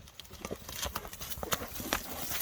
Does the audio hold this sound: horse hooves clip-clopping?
yes